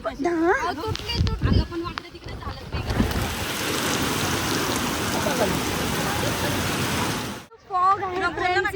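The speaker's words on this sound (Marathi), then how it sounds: "आणि प्रचंड पाऊस आहे गेली चार दिवसापासून कंटिन्यू इथं पाऊस आहे" Heavy monsoon rain pours in Lonavala as a steady, dense roar that holds loud and unbroken through the middle, with voices talking over it at the start and again after it cuts off near the end.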